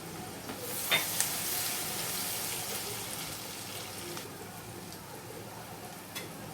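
Cabbage with a small tomato and asafoetida sautéing in a pan gives a steady, close sizzle and fry hiss throughout, with a couple of brief clinks of stirring near the start.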